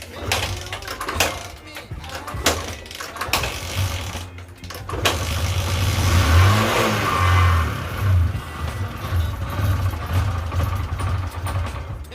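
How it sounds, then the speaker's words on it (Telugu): An old motorcycle, left unused for a year, sputters into life in a village repair setting and runs unevenly with rising revs, the engine loud and near, with brief scrapes and knocks before it catches. "ఎంత కొట్టినా కూడా బండి స్టార్ట్ అవ్వట్లేదు. స్టార్ట్ అవుతుంది, ఆగిపోతుంది."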